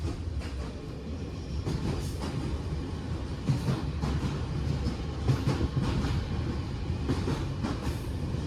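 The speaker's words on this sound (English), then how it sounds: "So on Sunday I took the train to her." A passenger train riding on rails, with steady rolling rumble and a repeating clickety-clack of wheels over track joints at a regular rhythm, heard from inside the carriage, no speech.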